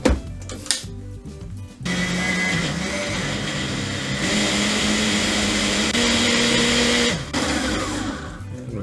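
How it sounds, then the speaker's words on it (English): A blender whirs loudly through garlic and onion for a Nando's-style hot sauce, starting after a short bump and running steadily for several seconds, with the motor pitch shifting slightly before cutting briefly and resuming. "Blend that up."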